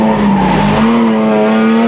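A race car in a 2002 Grand Am Cup event at a California track brakes hard: a loud, steady engine drone with a sliding pitch drop and a harsh tire scrub as it slows, close and continuous, with no talk.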